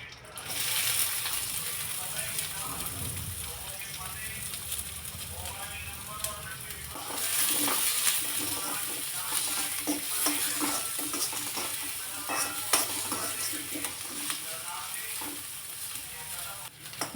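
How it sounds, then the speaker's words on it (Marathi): Chopped onion sizzles and fries in hot oil in a wok, with steady stirring and scraping through the sizzle, close and fairly loud, for a home-style okra and yogurt dish. "लालसर होईपर्यंत कांदा चांगला परतून घेतला"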